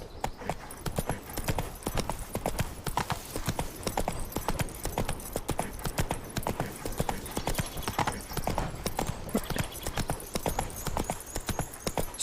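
Roach the horse's hooves clip-clopping in The Witcher 3 next-gen, a steady, rhythmic stream of close hoof clops at moderate volume throughout, with faint talk at times.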